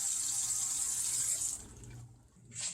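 Warm water runs from a tap into a cup for proofing bread yeast, a steady hiss that cuts off, then a brief final splash, with no talking.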